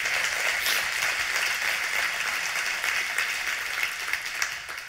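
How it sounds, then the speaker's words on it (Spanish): A church congregation applauds in a steady, fairly soft wash of many hands clapping, slightly distant and sustained throughout with no speech over it. "Dale un aplauso a Dios por eso."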